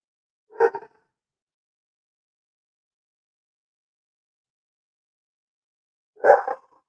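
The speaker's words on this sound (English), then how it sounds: "with his barking" A dog out in the woods gives two short, fairly loud barks about five seconds apart, with silence in between.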